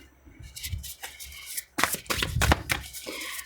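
A new, stiff tarot deck is shuffled in several quick riffling bursts of crisp card flutter and slaps, close up, with brief pauses between.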